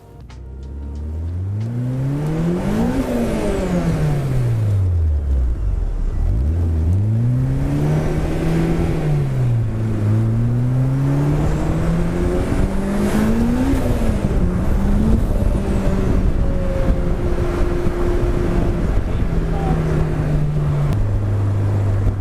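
A tuned Honda S2000 with over 400 BHP revs and accelerates hard through rising gears on the road, loud and continuous with changes in pitch, close by and without talk.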